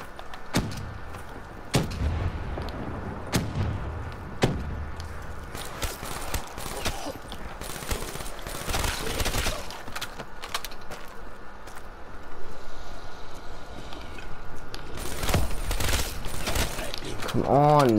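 Rapid gunfire crackles through a Call of Duty Black Ops 3 zombies round, sharp repeated shots in irregular bursts over a continuous din of game noise, with a brief tonal effect at the very end.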